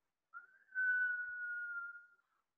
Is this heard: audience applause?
no